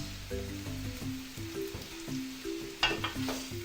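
Washed rice with a spoonful of salt being stir-fried in a pan, a soft steady sizzle with scraping stirs and a brief louder clatter near the end, quiet and close.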